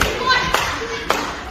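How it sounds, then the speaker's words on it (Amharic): Two sharp hand claps about half a second apart, loud and close, with a voice and a thin tonal background between them. "ጭብጨባ እንዴ!"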